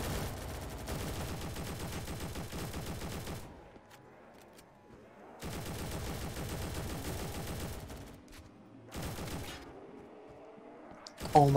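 LMG machine gun in a zombies video game firing in long sustained bursts, loud and rapid, with two extended strings broken by short pauses and a brief final burst.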